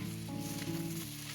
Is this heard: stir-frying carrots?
yes